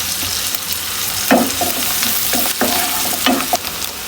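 Cumin seeds sizzle and crackle in hot oil, with a steady frying hiss and a few bursts of stirring, while dried fish fries for a gourd vegetable curry.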